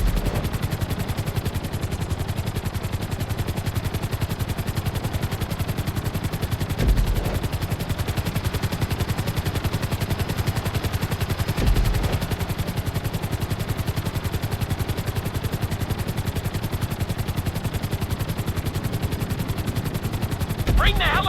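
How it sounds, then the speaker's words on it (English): Helicopter during GTA V flight school, a dense rapid rotor chop thudding continuously at close range, with a few brief heavier bumps. "Bring the helicopter down gently onto the helipad."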